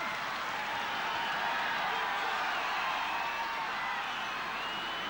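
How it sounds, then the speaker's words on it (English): Crowd cheering at a rugby match between Canada and the All Blacks, a broad sustained roar of many voices that stays steady and moderately loud from start to finish. "Great cheer from the crowd."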